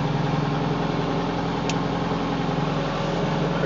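A Bobcat skid-steer used for snow removal idles with a steady, close, throbbing engine drone that stays even throughout, heard alone with one brief faint click partway.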